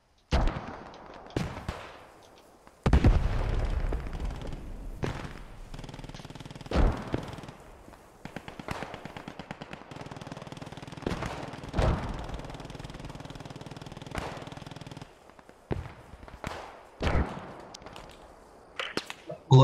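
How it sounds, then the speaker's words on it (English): Incoming gunfire and explosions in a World War II-style shooter video game, scattered sharp cracks and heavier booms at irregular intervals, some close and loud, others more distant, over a low rumbling background. "taking quite a bit of fire from northeast of my position"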